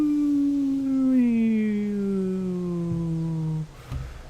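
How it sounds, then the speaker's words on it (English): A dog howls in one long, steady, slowly falling wail that fades out after a few seconds, followed by faint background noise. "Don't know if you could hear the dog barking in the background."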